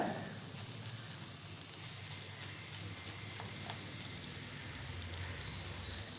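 Sardine pieces stir-fry in a pan over a medium flame for Kerala-style sardine thoran, giving a steady, fairly faint sizzle with soft stirring scrapes throughout and no talking.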